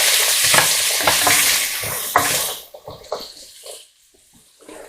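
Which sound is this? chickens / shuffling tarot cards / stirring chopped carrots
stirring chopped carrots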